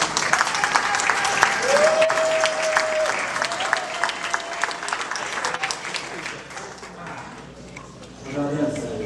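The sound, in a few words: wedding guests applauding the groom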